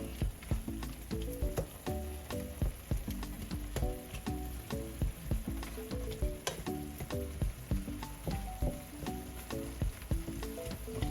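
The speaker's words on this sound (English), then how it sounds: "I'm also going to add a little browning for coloring, and then stir it in" Beef mince sizzles steadily in a pan while browning is stirred through, with dense crackling, frequent scraping clicks and close, even frying noise throughout.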